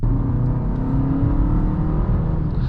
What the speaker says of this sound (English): I think naturally this engine has a really nice sound to it as well